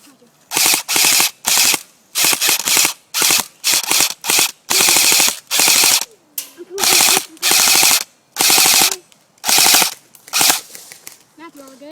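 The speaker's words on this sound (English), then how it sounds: "Open fire on back tower." Airsoft guns fire on an outdoor field in rapid full-auto bursts, roughly a dozen sharp, close, loud strings of shots separated by short pauses, with brief voices between them.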